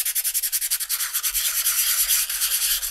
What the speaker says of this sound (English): And then you're going to sand it again to get it down to the smoothness that you need.